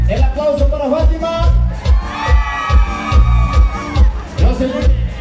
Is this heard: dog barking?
no